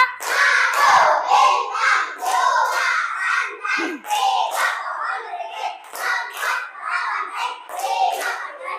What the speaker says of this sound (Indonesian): biar tambah semangat kita tepuk Pancasila dulu